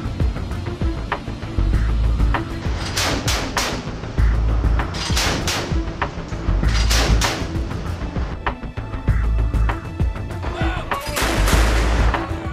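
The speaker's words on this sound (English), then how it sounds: "The MK-38 can be fitted with a 25mm chain gun, capable of firing more than 200 rounds per minute." An MK-38 25mm chain gun fires from a Navy ship in repeated bursts of sharp, loud shots, with short pauses and deep booming thumps recurring throughout.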